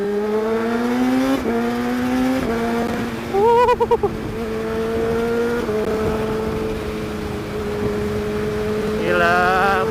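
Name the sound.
Kawasaki ZX636 (2019) motorcycle engine during test ride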